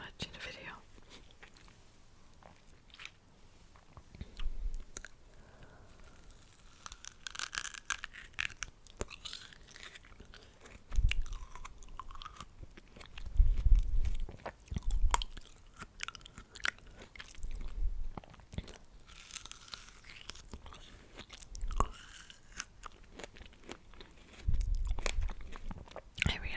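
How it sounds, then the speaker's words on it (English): Close, quiet eating of strawberries in a soft ASMR setting, with irregular wet chewing and crisp bites scattered across the stretch, some louder crunchy moments in the middle and near the end, and faint whispering throughout. "I really like eating strawberry sounds though"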